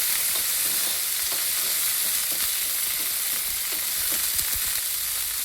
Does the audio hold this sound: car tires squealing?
no